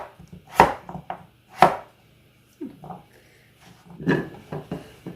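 A knife slices a potato into thick pieces on a cutting board, giving a few sharp, separate chopping thuds close by with short pauses between cuts.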